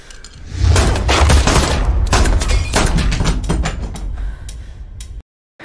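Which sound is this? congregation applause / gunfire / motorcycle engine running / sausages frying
gunfire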